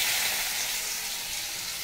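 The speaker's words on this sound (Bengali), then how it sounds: "উচ্ছে আলু ভাজাটা আমি বসিয়ে দেবো" Bitter gourd and potato slices fry in hot oil in a kadai, giving a steady, close, even sizzling hiss throughout with no talking.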